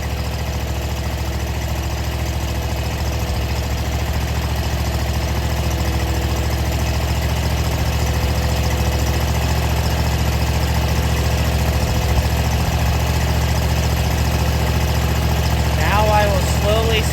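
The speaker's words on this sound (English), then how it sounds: "The first thing I like to do when I turn the mower on is just give it about 30 or so seconds to warm up" A lawn mower engine idles steadily while warming up, a constant mid-low drone running nearly unchanged from start to finish at close range, with no talk.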